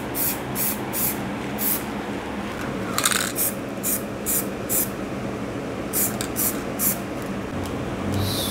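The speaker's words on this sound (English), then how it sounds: "just spray some color down, shading and highlighting" A spray paint can hisses in a series of short, rhythmic bursts while painting planets, with brief pauses between sprays and a few longer blasts, over a low steady background.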